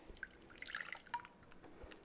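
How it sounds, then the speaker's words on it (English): Melted butter poured into a new bowl while making cookies, a faint, thin trickle with a few soft drips and splats in a quiet kitchen, no talking. "We're going to pour our melted butter in a new bowl."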